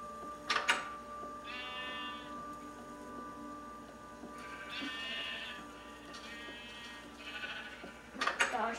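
Sheep in the Minecraft video game bleat in three separate calls, each a wavering, buzzy cry standing out over steady game background music, with a few short sharp clicks at the start and end.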